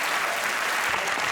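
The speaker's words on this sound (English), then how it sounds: "Round applause for both of them" A television panel-show studio audience applauds, a dense, loud, continuous wash of clapping filling the whole moment without a break.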